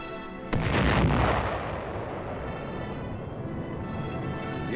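An atomic weapon explosion from a 1957 army training film opens with a sudden heavy boom, followed by a long, loud, rumbling roar that slowly fades but keeps going.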